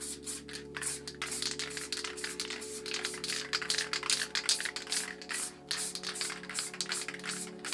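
Montana Black spray paint can hissing in short repeated bursts as the cap is pressed lightly, a close, airy spray with broadband texture and steady pulsing, accompanied by faint handling sounds and a low background hum.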